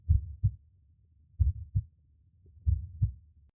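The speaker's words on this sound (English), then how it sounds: "I can almost feel a heartbeat." Heartbeat sound effect in an audio drama: paired lub-dub thumps, low and soft, repeating three times at a slow, steady pace against silence.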